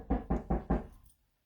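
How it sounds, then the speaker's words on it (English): Four firm, evenly spaced knocks on a home door, close and loud with a hollow thud, then silence. "someone's knocking at my door"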